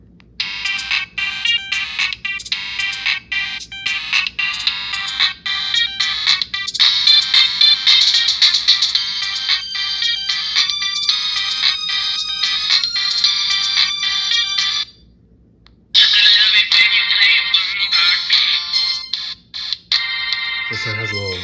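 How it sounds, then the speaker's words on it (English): Built-in ringtones play one after another on a Virgin Mobile flip phone, loud, bright electronic melodies and beeping tones that run nearly continuously, broken only by a brief silent gap near the end. "let's see what ringtones are on this phone"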